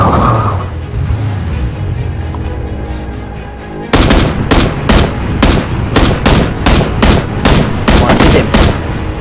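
Gunfire in the video game PUBG Battlegrounds: after a few seconds of quieter game ambience, loud, rapid bursts of automatic shots ring out in a steady, repeating rhythm, close and dominant.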